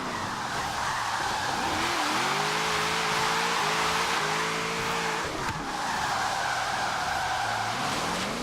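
All-wheel drive car drifting in the Forza Horizon 3 racing game, a steady engine drone with rising and falling revs under a continuous loud tire squeal and skid that runs almost the whole time, briefly dipping midway.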